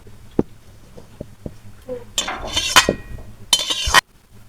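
A wok is set down on a home kitchen stove before cooking a vegetable curry: a few scattered light clinks, then a burst of metallic clattering and scraping, close and fairly loud, ending abruptly.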